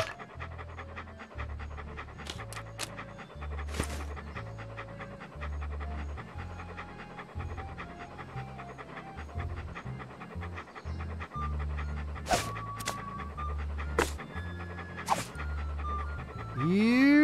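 A dog in the video game Monkey Island 2 pants in quick, steady, rhythmic breaths, with occasional short game tones over it.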